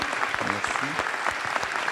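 Lecture audience applause, a short burst of clapping with a faint voice-like murmur mixed in, fairly even and moderately loud.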